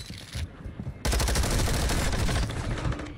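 Gunfire in a video game: a few scattered shots, then a sudden, loud, sustained rapid-fire burst that rattles on steadily for about two seconds, close and dense.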